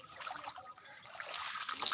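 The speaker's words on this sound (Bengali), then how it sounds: "এখনো বৃষ্টি কমে নেই এটা কিন্তু রাস্তা সব জায়গায় পানিতে পরিপূর্ণ" Rainwater trickles and flows across a flooded road during ongoing rain, a faint, continuous watery wash with light splashy detail and no clear voices.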